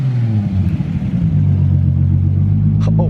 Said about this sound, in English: Oh my god, the RB25 really does sound pretty similar to RB26.